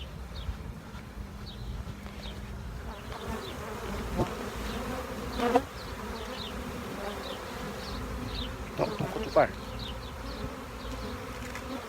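Swarm of 10,000 to 12,000 honeybees being shaken into a new hive: a dense, steady buzzing hum throughout, with a few thumps and knocks from the hive box and a brief spoken word in the background.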